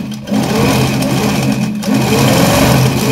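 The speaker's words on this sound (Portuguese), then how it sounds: "Vamos costurar." A domestic sewing machine stitching a coverstitch-style hem half a centimetre from the fabric edge, running as a loud, steady motorised whir with brief dips in speed.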